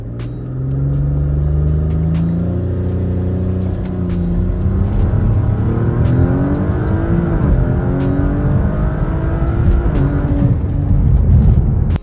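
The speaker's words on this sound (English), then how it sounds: "In second gear, I'll go ahead and come to a stop in manual mode. It will stay in second gear and engage launch control as normal." An Audi B9 S4 launches from a stop in second gear using launch control, its engine rumbling loudly and climbing steadily in pitch as it accelerates, with a brief dip before pulling on.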